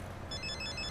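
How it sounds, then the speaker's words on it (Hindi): A telephone rings, its bright, warbling electronic tone starting partway through and pulsing over a low room hum. "फोन आ गया"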